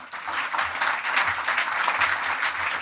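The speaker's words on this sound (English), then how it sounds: "Round of applause, please, for her." Audience at a maths summit applauds for a speaker joining the stage, a dense, steady round of clapping sustained throughout the short stretch.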